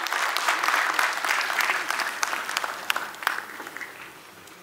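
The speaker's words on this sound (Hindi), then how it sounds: "प्राचार्य प्रोफेसर ज्ञानतोष कुमार झा से जोरदार तालियों से अभिनंदन करें" An audience at the inaugural session of a college theatre festival gives a warm round of applause to welcome the college principal: dense, steady clapping that gradually thins out toward the end.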